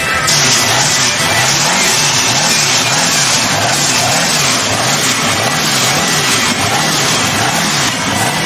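Several car engines run steadily and loudly at an outdoor car show, a continuous motor rumble with a slow, rhythmic pulsing in the low range and a bright hiss of background noise throughout, with no clear speech.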